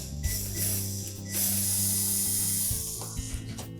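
A power screwdriver drives two screws back into a Whirlpool washer's console and cabinet, its steady motor whine running close and loud with a brief change in pitch partway through.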